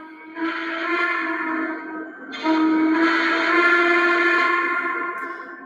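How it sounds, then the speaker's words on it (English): Model S2 Turbine locomotive whistle sounding through its onboard speaker, first a steady tone, then a louder, brighter blast that holds for several seconds before tapering slightly. "go through the whistles and the bells."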